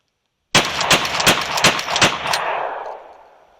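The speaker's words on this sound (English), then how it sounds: "So as you've probably just seen that shooting segment, this is the Zastava pump action shotgun from Inner Surplus." A Zastava pump-action shotgun fires a rapid string of about six or seven sharp, loud reports in under two seconds, followed by a long echoing decay after sudden silence.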